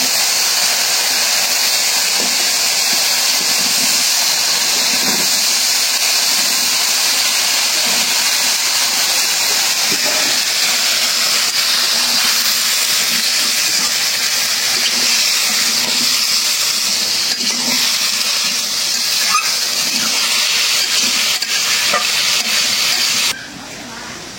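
Vegetables tipped into spice paste frying in a pan, giving a loud, steady hiss of sizzling oil that runs almost unbroken for the whole stretch and drops off abruptly at the very end.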